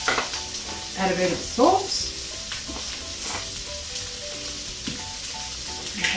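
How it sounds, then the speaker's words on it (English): Cauliflower dropped into hot oil in a pan, giving a crackling fry with a few stirring scrapes early on that settles into a steady low sizzle, with a voice speaking briefly over it. "once the oil is hot, so you just add your cauliflower into the pan"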